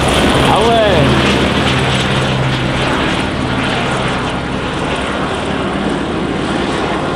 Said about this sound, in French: il y a des hélicoptères canadiens qui font des allers-retours